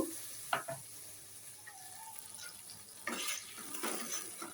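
Mustard-poppy seed paste and a little water go into a hot pan for a mustard-poppy parshe fish curry, giving a soft steady sizzle with brief scraping stir strokes and a louder splashy burst near the end.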